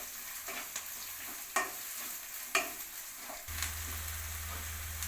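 Onions frying in a pan make a quiet, even sizzle with occasional sharp scrapes and taps of a stirring utensil. A low steady hum joins in during the last stretch.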